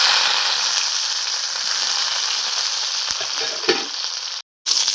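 Green chillies frying in a kadhai of hot oil for sabudana usal, loud continuous close sizzling with occasional pops and stirring, cutting out briefly near the end.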